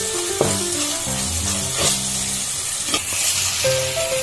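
Spice masala of coriander, garlic and chilli fries in hot oil in a pan, a steady close sizzle that runs throughout, broken by occasional scraping stirs.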